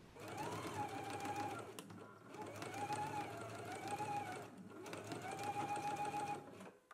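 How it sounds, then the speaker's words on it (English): A sewing machine stitches a seam from a large circle mark to a notch on the left front opening edge of a McCall's M8480 garment, humming steadily and fairly quietly throughout with slight rises and dips in speed. "Let's go ahead and stitch here now."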